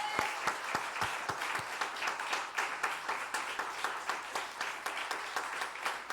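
Congregation applause during a Sunday worship service at a church in Songdo, Korea: a continuous, fairly distant patter of many hands, with a few sharper claps standing out near the start.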